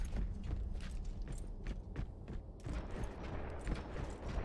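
An automated turret fires in the video game Overwatch amid a hectic match, with a quick series of faint, irregular sharp shots over a dense, rumbling background.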